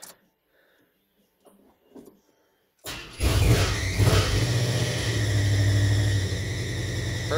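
An old AMC Matador with mismatched, worn plug wires cranks over after quiet shuffling, catches and roars into a loud, rough rev, then settles into a heavy, uneven running rumble.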